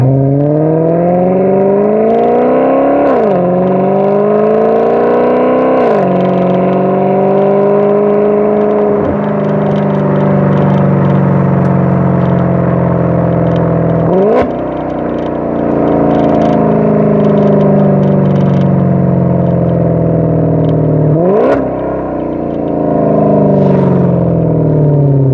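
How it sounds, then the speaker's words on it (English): A 2015 Maserati GranTurismo's exhaust, recorded from outside the car, rises and falls through repeated loud revs. Each climb in pitch ends with a sharp drop and a steady mechanical whir underneath, with no voices. "Okay, so now let's do exhaust audio on the outside of the car."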